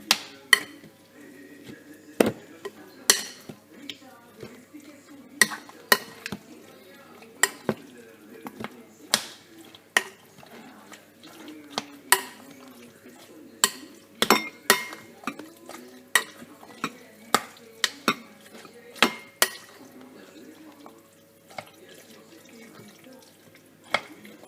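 Onions and garlic stirred in a pan while making homemade lasagne, with repeated sharp clicks and scrapes of a utensil against the pan over a soft background of cooking and running water.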